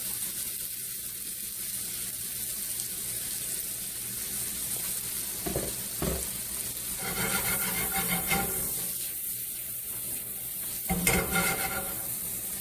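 Shrimp and garlic sizzle faintly in a hot pan, a constant soft hiss with brief scraping and clattering as the food goes in and is stirred.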